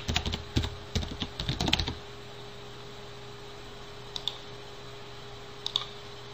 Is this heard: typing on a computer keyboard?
yes